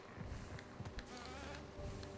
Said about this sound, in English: there's so many large bees floating about